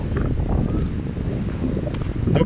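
Wind buffets a phone microphone on the coast of the Gulf of Morbihan, making a dense, low, rumbling roar that runs throughout and stays fairly loud.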